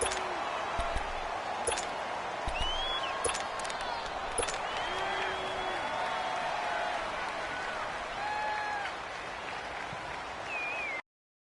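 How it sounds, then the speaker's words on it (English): Stadium crowd in a football video game cheering and applauding after the home defense holds on an opening drive, a broad, sustained roar at moderate distance, with whistles and chirps above and commentary voices over it. "And this crowd loves it as their guys hold on the opening drive."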